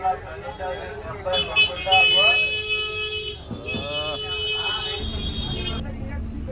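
Horns honk from traffic around a city bus in Hyderabad, heard from inside the bus as several short toots in a row over the steady engine rumble and road noise.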